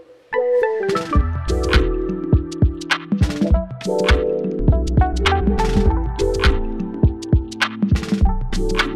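A synth lead transposed down an octave plays a busy melodic line over a full beat, with steady bass, punchy drum hits and sustained chords in a music production session.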